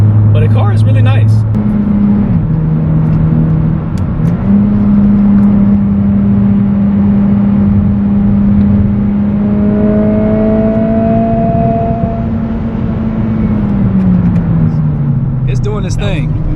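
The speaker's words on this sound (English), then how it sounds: "And I like the aftermarket sound he has now with the resonator." A tuned 11th-generation Honda Civic Si with an aftermarket exhaust drones steadily from inside the cabin, its engine note shifting and climbing through several rises, with people talking over it.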